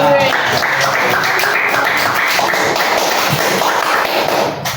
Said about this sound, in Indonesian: Kelompok 2, tepuk tangan untuk kelompok 2.